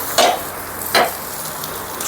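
Bread omelette frying in oil on a street-food pan, a steady soft sizzle punctuated by three sharp scraping stir or flip strokes at regular intervals, close and alone without talk.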